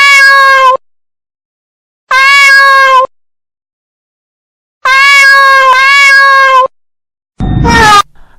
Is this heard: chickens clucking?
no